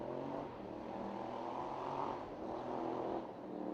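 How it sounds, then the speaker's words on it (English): A loud car drives past near a cricket ground during a T10 match in Croatia, a steady broadband engine roar that swells and eases over several seconds at moderate distance. "It's a loud car."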